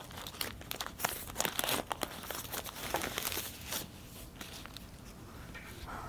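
Oil paper wrapping around a fuel injector valve assembly crinkles and rustles up close in quick, uneven bursts, then quietens to softer handling near the end.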